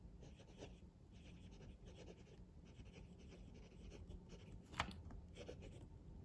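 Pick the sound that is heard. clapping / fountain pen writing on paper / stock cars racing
fountain pen writing on paper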